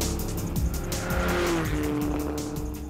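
Race cars return to the pits after a lapping session at a racing school, engines roaring with tire squeal and skidding as they pass close and loud.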